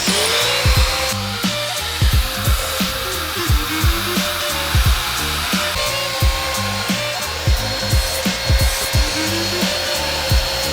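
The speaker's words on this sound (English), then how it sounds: "First off, our hair dryer function. Dyson on the left and 5-in-1 on the right." Dyson hair dryer and a 5-in-1 hot air styler blowing steadily, a continuous loud airy whir with a high whine, interrupted by regular thumping handling knocks, no talking.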